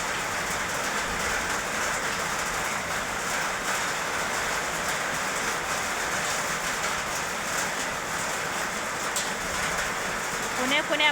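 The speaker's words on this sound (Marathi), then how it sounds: "बरं झालं पाऊस आला आज।" Rain falling on a farm with mango trees and a shed, a steady hiss of rainfall on surfaces, moderately loud and continuous.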